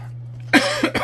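A single sharp cough bursts out close to the mic, followed by two smaller coughs, over a steady low fan hum.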